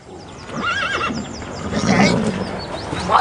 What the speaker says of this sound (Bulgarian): Какъв хубав кон имате!